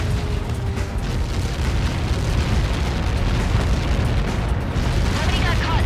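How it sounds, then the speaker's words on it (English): A massive explosion in the Ace Combat 7 flight combat game fills the clip with a loud, continuous roaring rumble that stays dense and steady throughout. "Nobody got caught in that explosion."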